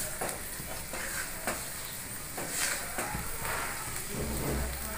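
Amla murabba being stirred with sugar in a pan over low heat, a continuous bubbling simmer with a spoon scraping and sweeping at a loose, steady rhythm, close and fairly loud, no voices.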